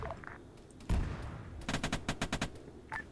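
The Ajax vehicle's gun in ArmA 3 fires at moderate distance: one heavy report, then a quick rhythmic string of about eight shots, and a last faint shot, all over a low ambient hum.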